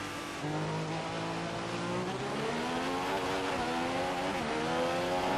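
A WF1 race car in a racing video game at a Japan Grand Prix, its engine whining at high, steadily climbing revs with gear-shift dips, continuous and prominent.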